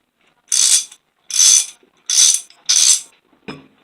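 A Craftsman 1/2 inch hand ratchet clicks close up in four quick bursts of rapid pawl clicks, followed by one short final click, with no talking.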